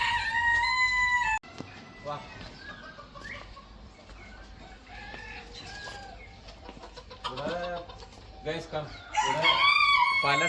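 Chickens and roosters at a poultry farm crow and cluck, a loud close crow opening and another near the end, with clucking and cackling in between and talk mixed in.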